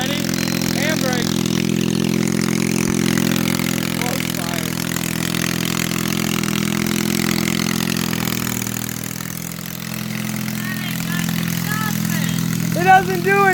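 A Honda turbo garden tractor engine idling with a loud steady low drone throughout, dipping briefly before picking back up, while people talk nearby over it.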